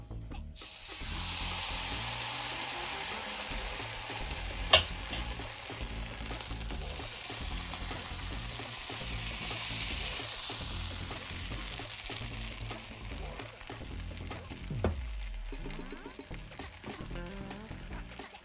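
Oil sizzles steadily in a hot appam pan as it is coated, a continuous close hiss with a brief clink partway through and a soft scrape near the end.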